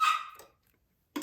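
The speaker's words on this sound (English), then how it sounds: "I think you can hear my dog barking." A small dog gives a short high yip, then falls silent, and a second sharp bark starts just before the end, both close and fairly loud indoors.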